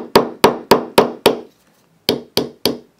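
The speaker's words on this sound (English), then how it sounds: "you just use a little hammer." A small hammer taps metal pins into a dental articulator: five sharp, evenly spaced strikes, a brief pause, then three more, close and loud.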